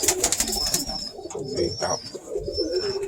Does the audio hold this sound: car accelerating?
no